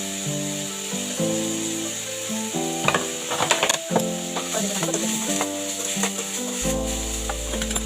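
Green tomatoes and salt stir-fried in a pan, a spatula scraping and tossing with a soft sizzle. Bursts of stirring cluster in the middle, all beneath steady tonal background music.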